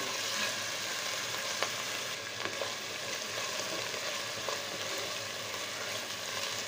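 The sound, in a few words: garlic and spices frying in a pan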